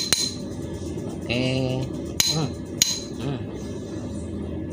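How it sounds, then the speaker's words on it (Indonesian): A hammer strikes the end of a long Lippo socket wrench several times, sharp metallic clanks ringing close with short clinking decay, and someone says a brief word between hits. "kalau mengetes kunci seperti ini teman-teman, kita pukul ujung-ujungnya"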